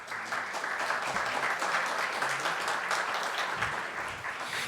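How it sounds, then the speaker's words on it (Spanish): A seminar audience in a university hall gives steady applause, a dense even clatter of many hands that holds throughout and tapers slightly near the end, with no clear talk over it. "a quien recibimos con un aplauso"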